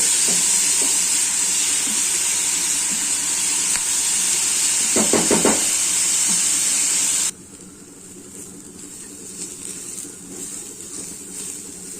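Chutney of ridge gourd fries in oil in a pan, a steady bright sizzle and hiss that continues close by, then drops abruptly to a quieter simmer partway through.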